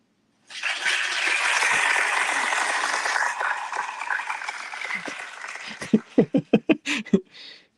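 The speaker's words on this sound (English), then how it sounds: "Play applause sound effect." A recorded applause sound effect plays during a craft-kit livestream. A crowd claps steadily and loudly for several seconds, then thins out, and a series of short distinct claps or bursts closes it.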